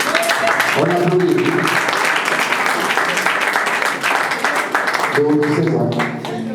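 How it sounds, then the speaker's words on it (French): Sustained applause from wedding guests at a civil ceremony, dense clapping filling the room for several seconds while voices chatter and sing out intermittently above it. "On applaudit."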